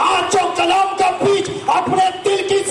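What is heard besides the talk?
No everyday noise stands out behind the speech.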